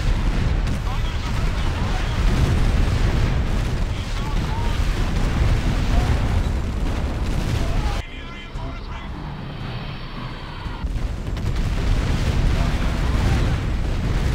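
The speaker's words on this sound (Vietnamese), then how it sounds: "Bắn phá những khẩu pháo thật sự là chất lượng." Artillery guns firing and shells exploding in the strategy game Art of War 3 form a dense, continuous roar of blasts and rumble that dips briefly before surging back at full loudness.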